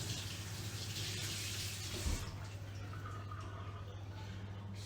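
Running tap water pours steadily over organic blueberries being rinsed in a kitchen, a continuous close splashing hiss that briefly thumps midway, then softens and thins in the second half.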